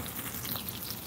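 Catfish fries in a pan at an outdoor cook, giving a steady, even sizzle and crackle with no talking over it.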